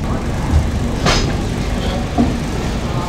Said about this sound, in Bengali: আর এখন ট্রেন ছাড়লো।